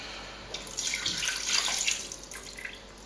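Water is poured into pizza dough in a mixer for a 100% hydration dough: a brief splashing, running-water sound of about two seconds that swells and then fades, heard alone at moderate volume.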